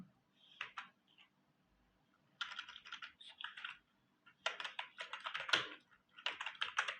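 Bursts of typing on a computer keyboard while entering a search term, clicks coming in quick uneven clusters separated by short pauses, close and fairly quiet, with no voices.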